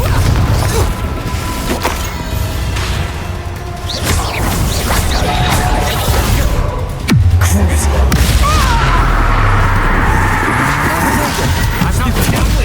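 Spell blasts from the Confringo fire charm in the Hogwarts Legacy video game: repeated booming impacts and crashes in a dense battle mix, with one sharp heavy blast midway followed by a low rumbling tail.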